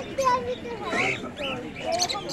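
Two pairs of lovebirds at a busy pigeon market give short, high chirps and tweets over a murmur of crowd noise.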